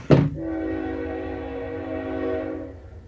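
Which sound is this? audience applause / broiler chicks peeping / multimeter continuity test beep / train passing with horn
train passing with horn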